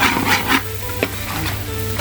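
Finely chopped goat intestine (botti) sizzling in masala in a pan, stirred with a scraping utensil: steady frying hiss with a few distinct scrapes and knocks, close and fairly quiet.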